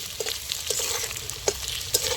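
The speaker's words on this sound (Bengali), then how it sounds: "আর ওই তেলেই কিন্তু আমি আলুটা ভেজে নিচ্ছি" Potatoes fry in oil already used for frying fish, a steady sizzle broken by a few sharp stirring clinks close by.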